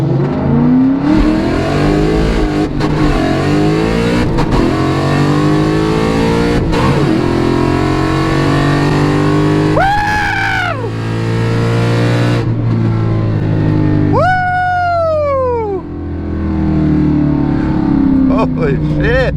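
An S550 Mustang fitted with a Whipple supercharger and 4.56 gears tears down a quarter-mile drag strip, its engine screaming loudly and continuously through several sharp rising gear pulls, heard from inside the car.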